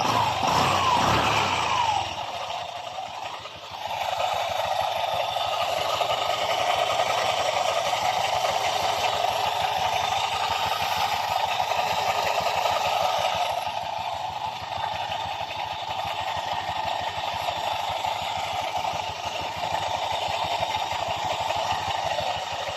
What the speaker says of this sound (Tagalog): Andar ng kanyang motor na naka-open ang panggilid